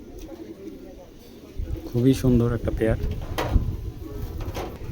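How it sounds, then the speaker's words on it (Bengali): Black racing pigeons from a club line, a young healthy pair, giving soft low coos up close, largely under a man's steady speech with some rustling and a door-like knock. "পাইথন ব্ল্যাক পাইথন লাইনের কবুতর এক জোড়া, বিআই পেপসি ক্লাবের কবুতরের"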